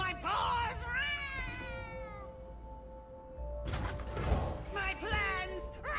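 Cartoon cat meows from cards in the Legends of Runeterra video game, several bright rising cries in two bursts over a busy game background with a steady tone.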